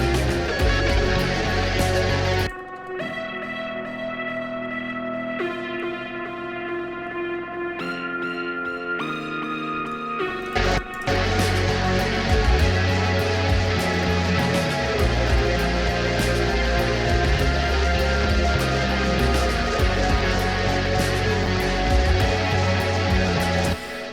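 A dense rock song mix with a quieter synth part tucked inside, thinning to a sparser sustained passage for several seconds before the full loud band surges back and carries on.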